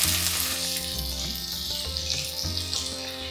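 Onion frying in a pan for a prawn curry gives a bright, steady sizzle, heard close up and continuous, while a tonal music bed plays underneath.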